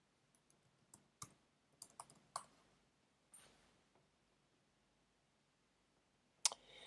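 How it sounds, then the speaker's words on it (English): A computer keyboard being typed on to enter a search: scattered light key clicks in short irregular bursts, fairly close and quiet, with one louder clack at the end. "let's just check trends and type in paddleboards and see what comes up"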